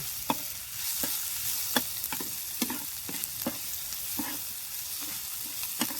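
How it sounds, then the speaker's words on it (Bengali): Chopped garlic and ginger fry in a pan under a constant soft sizzle, punctuated by irregular spatula scrapes as they are stirred, close and fairly quiet with no voices. "এবার দিয়ে দেব কুচি করা আদা আদাও রসুন দিয়ে কিছুক্ষণ নেড়ে নেব"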